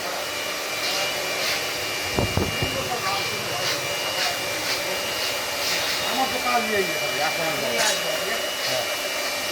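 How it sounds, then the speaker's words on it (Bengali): A puffed rice roasting machine drones steadily, a loud continuous mechanical whir and rumble that fills the whole stretch, with faint voices mixed in underneath. "উন্নত মানের সিস্টেমের মুড়ি মেশিন, একদম ফ্রেশ মুড়ি হবে"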